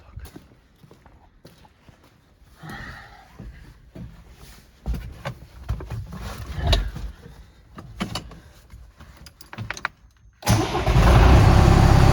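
An MTZ tractor after a half-shaft replacement, with clanks and knocks of handling before the engine catches near the ten-second mark and settles into a loud, steady diesel idle close by.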